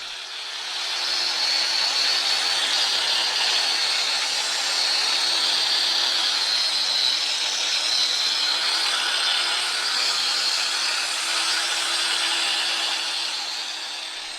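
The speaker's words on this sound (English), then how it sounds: "Make sure you hold the grinder flat to the workpiece." An angle grinder works a half-round bullnose edge onto marble tile, held flat against the stone, a continuous loud gritty whine that holds steady for the whole stretch with no pauses and no talk.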